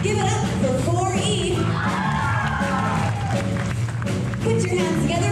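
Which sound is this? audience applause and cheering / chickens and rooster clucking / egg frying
audience applause and cheering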